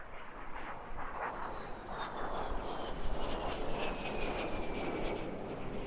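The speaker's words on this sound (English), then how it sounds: "This aircraft he's brought today was built in Switzerland in 1952" A 1952 Swiss-built ex-Swiss Air Force aircraft at the Eastbourne International Airshow, a loud sustained engine roar with a rising whine, steady and fairly close, filling the whole stretch.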